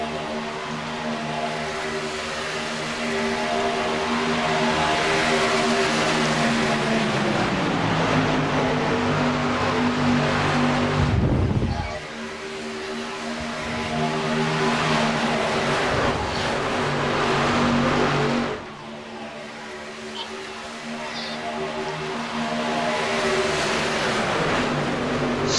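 Race trucks in a tight pack at Talladega, engines droning loudly and continuously with harmonic whine, the roar dipping briefly twice as the field passes, with no talk.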